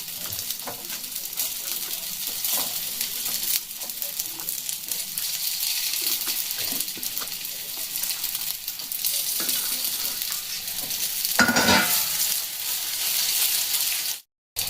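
Veg momos pan-fry with a loud, continuous sizzle and crackle, with occasional stirring scrapes and a brief surge of hiss near the end before a sudden cut.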